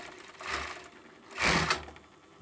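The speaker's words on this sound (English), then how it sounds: "here I am overlocking" An overlocker sews up the side seam of a hoodie body, trimming a little fabric off as it goes, heard as two brief, soft whirring bursts close by with no talk.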